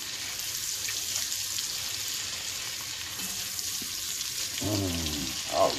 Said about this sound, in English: Get the onions up in there and get that cooked off.